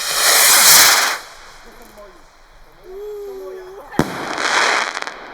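Loud crackling bursts of TXR738 5XL firework rockets explode outdoors, with a whistling rocket rising in between and another sharp bang followed by crackle.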